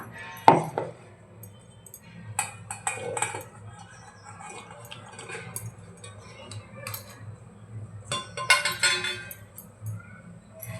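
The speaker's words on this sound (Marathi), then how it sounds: "आता ते आपण एका मिक्सरच्या भांड्यात घालूया" Roasted onion and coconut go into a steel mixer jar in a home kitchen, giving a few sharp metallic clinks and scrapes of a spoon against the jar, with quieter handling noises between them.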